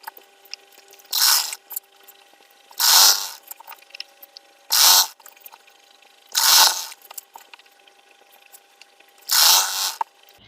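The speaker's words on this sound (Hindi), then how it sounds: "यहाँ पर सिलाई लगाना स्टार्ट करेंगे" A sewing machine stitches a blouse seam at a quarter-inch margin, running in five separate short bursts of a few seconds each, with quiet pauses between them as the fabric is repositioned.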